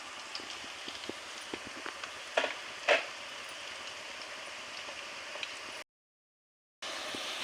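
Chopped onions and green chillies sizzle in a pan on the stove, a steady soft crackle with scattered pops and a couple of louder spits, briefly cut to silence near the end.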